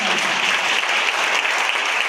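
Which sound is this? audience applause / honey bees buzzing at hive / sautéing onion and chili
audience applause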